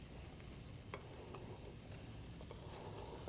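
Whole milk being whisked into a hot pan to deglaze it, a faint, steady sizzle with light scraping and occasional soft taps of the whisk, no voices.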